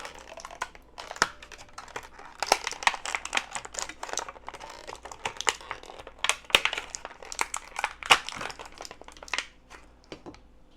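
A plastic bubble pack holding model parts is crinkled and torn open, giving irregular bursts of crackling and sharp snaps at close range. Short pauses break up the handling.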